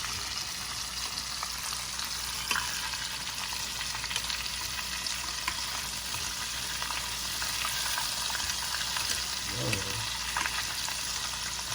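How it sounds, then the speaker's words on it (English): Steady, soft crackling and bubbling of stuffed shrimp deep frying in hot oil, a continuous low sizzle with faint clatter now and then. "I'm just gonna let these fry."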